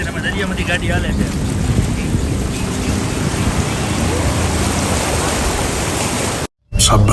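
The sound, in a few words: car driving through deep floodwater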